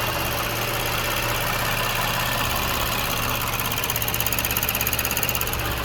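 A Toyota Crown Athlete engine idles steadily up close, a continuous low hum with a faint ticking and a slight rhythmic pulsing toward the end, no voices present.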